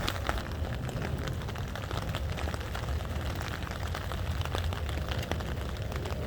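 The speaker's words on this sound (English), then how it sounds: "listen to the rain" Dense, steady patter of rain drumming on a taut tarp overhead at an urban campsite, continuous and close, with no voices.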